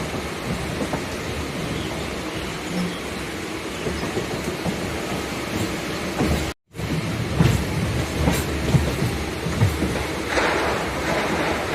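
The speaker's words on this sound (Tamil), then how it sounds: "பாருங்க, நம்ம ட்ரெயின் வந்து அந்த பக்கம் அந்த பிளாட்ஃபார்ம் முதல் பிளாட்ஃபாரத்துக்கு போகுது." An MRTS suburban train arrives at the Velachery railway station platform in Chennai, a steady loud rumble of wheels and carriages with scattered clanks, broken by a brief gap of silence.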